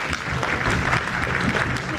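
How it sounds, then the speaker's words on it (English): A conference audience applauds steadily at an academic felicitation ceremony, dense clapping filling the hall for two seconds with a faint voice underneath. "A big round of applause."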